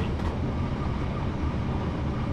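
A Class 455 electric train running on the Portsmouth Direct Line from London Waterloo in Train Simulator gives a steady, close rumble of wheels and traction with no breaks, heard alone.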